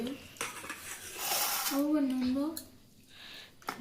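Dal is served onto a plate of rice at a home meal, with clinks of a spoon and dishes under a voice talking, including a sustained sung or drawn-out vocal note.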